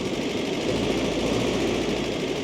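Land Rover Series 3 engine idling, a steady, dense rumbling drone held close and unbroken throughout.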